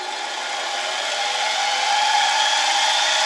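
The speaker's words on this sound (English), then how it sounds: "now I put the drilling fixture on my lathe, and I'm going to drill a little guide hole here" Steady high-pitched whirring and grinding of a drill bit cutting a guide hole into metal bar stock held in a drilling fixture on a lathe, continuous and fairly loud with no voices.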